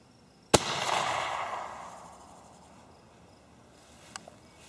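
A homemade smoke round fired from an RV85 launcher tube outdoors gives one sharp, loud pop, then a rushing hiss that fades over about two seconds, with a faint distant thump afterward.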